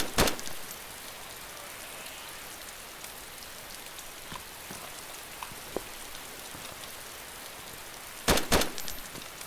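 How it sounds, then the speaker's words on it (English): Steady rain falling in the survival video game DayZ, a constant dense hiss of raindrops with a few sharp louder pops and spatters near the start and end, no talking. "Don't think this rain is going to stop."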